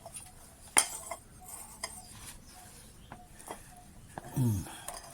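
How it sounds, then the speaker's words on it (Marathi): Ginger is cut in a village kitchen, giving a few sparse, sharp knocks and clicks spread out over a quiet background, with a louder thud near the end. "अद्रकचं कटिंग करून घेऊया"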